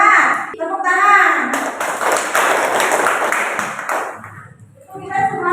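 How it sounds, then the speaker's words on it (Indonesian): A primary school class claps hands together, a dense burst of clapping in the middle with children's voices before and after it. "Tepuk tangan."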